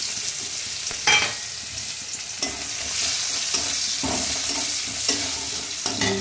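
Sliced onions go into hot oil in a wok (kadai) seasoned with black cumin (kalo jeera) for a spicy potato and fish curry, giving a steady close sizzle of frying with occasional clinks and stirs.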